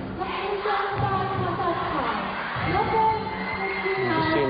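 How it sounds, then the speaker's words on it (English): Spectators in a Hong Kong arena at a 2011 FIVB World Grand Prix women's volleyball match between Poland and Kazakhstan cheer and shout in a continuous, lively swell of crowd noise, with voices mixed into the din. "You can see in the background the crowd really trying to get into it, really create an atmosphere."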